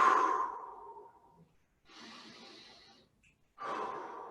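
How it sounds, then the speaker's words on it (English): Deep breaths during a wide-stance yoga squat: a long audible exhale, then a quieter inhale and another strong breath starting, close and alone. "A deep breath."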